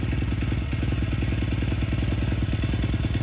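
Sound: 140cc drift engine running after rebuild

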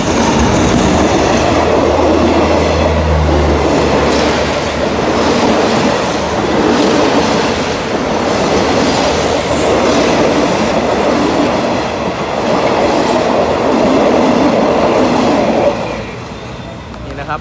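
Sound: Alsthom 4149 locomotive hauling express train 84 passing

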